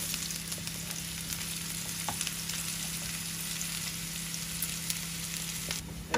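Tempering (baghar) of spices sizzles steadily in hot oil, a dense continuous frying hiss heard close up, with a few faint clinks and no talking.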